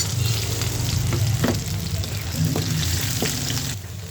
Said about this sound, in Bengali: আর এখন দিয়ে দিব বাকি আদা, রসুন আর শুকনো মরিচ বাগারের জন্য